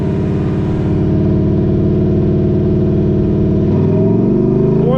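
A Ford Mustang GT with its resonator deleted holds a loud, rumbling rev near 2,000 rpm, and the exhaust note climbs higher toward the end.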